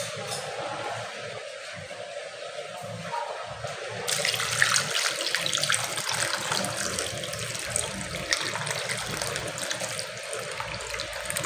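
Hot water is poured over meat to loosen the skin, a steady close rush of running water that grows louder and fuller partway through and continues without pause.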